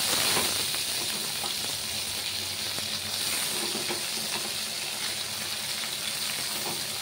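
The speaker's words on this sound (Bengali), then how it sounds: "এটা ভেজে নেবো ভালো করে" Salted snake gourd fries in a pan with a continuous close, even sizzle and steamy hiss, steady for several seconds without talk.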